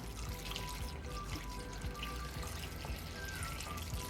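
Water poured from above onto an indoor houseplant, a soft, steady trickle and splash that is quiet and continuous throughout.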